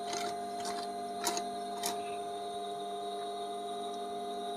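An electric sewing machine stitches a men's shirt pocket, a steady close mechanical whir with a constant tonal hum and a few brief clicks, running alone.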